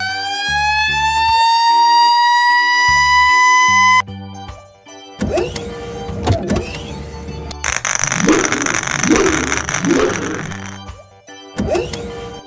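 A red fire truck siren wails in steady rising tones at first, then breaks off into a series of loud, cluttered vehicle and rattling noises with short gaps between bursts.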